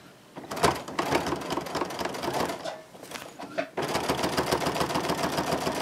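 A sewing machine stitching the lining of a diaper changing bag runs in close, loud, rapid bursts, pausing briefly near the middle before resuming at a steady fast pace.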